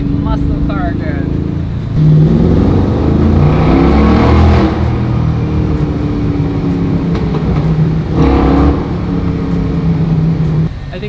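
A muscle car with freshly repaired fueling and its power restored accelerates hard, the engine rising loud and close in two surges with a steady drone between them.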